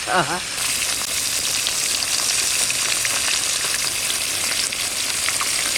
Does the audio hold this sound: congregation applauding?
no